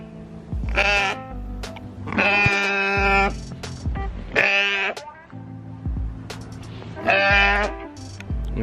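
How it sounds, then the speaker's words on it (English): Sheep and goats on a small farm bleat in four loud, drawn-out calls spaced across the clip, with quieter shuffling and lower livestock sounds between them. "check on my sheep, my goats, and my chickens"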